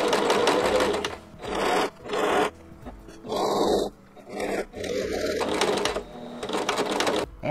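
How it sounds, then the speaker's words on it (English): A sewing machine stitches the hem of a child's apron in several close, loud bursts of rapid whirring, separated by brief pauses and fabric handling. "I repeat the process on the other side. And then sew up. And now the whole apron is hemmed."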